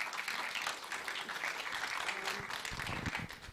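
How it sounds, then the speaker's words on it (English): Audience applause at a panel event for African filmmakers, a dense steady clapping from a full room filling the whole stretch with no speech over it, tailing off slightly at the end. "Please give her a round of applause."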